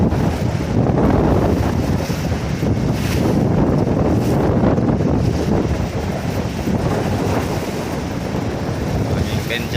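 Strong wind roars steadily across the microphone at sea as the KM Dobondolo ship pulls out, with broadband buffeting and surf wash filling the whole stretch, loud and continuous.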